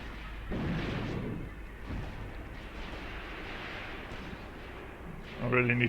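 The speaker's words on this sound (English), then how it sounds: "we're getting fire from the village now as well" Gunfire from a village rolls across a World War II battlefield in Graviteam Tactics, Kharkov 1942, a steady dull rumble of distant shots and booms, with a voice talking over it.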